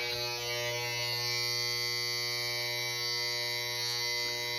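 An electric hair clipper fitted with a number 2 extended guard trims a growing beard, giving a steady close-up buzzing hum with faint tonal whine that holds evenly throughout, with no talking.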